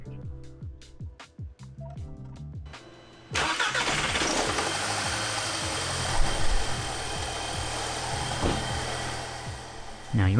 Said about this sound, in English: We're going to let the engine idle for 10 to 15 minutes.